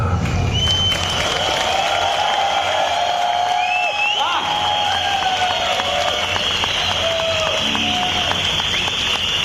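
Audience applauding and cheering after a Hindi poetry recitation, dense crowd clapping mixed with whoops and shouts, loud and continuous for several seconds with voices rising above it.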